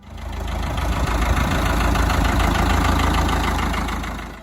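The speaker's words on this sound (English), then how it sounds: "the tractor settles into that deep, even tone that farmers came to trust" A Ford tractor from the 1960s idles with a deep, steady, even engine rumble, loud and close, holding constant throughout.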